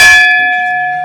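A single metal bell struck once to summon people to a meal at home, ringing loud and close with a long, steady sustained tone that slowly fades, heard alone.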